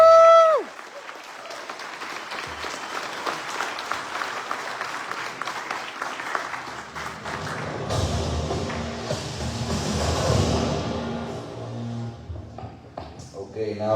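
Audience applause at a Corvus Belli seminar on Infinity and Warcrow at GenCon 2025, a broad clapping texture that rises and fades and then swells again, with a brief tone near the start and crowd noise toward the end.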